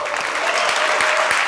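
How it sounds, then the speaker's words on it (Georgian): Applause breaks out at a Georgian grappling match between Warriors Tbilisi and Marneuli, a loud continuous wash of crowd clapping filling the hall, with occasional heavier thumps beneath it. "აპლოდისმენტები."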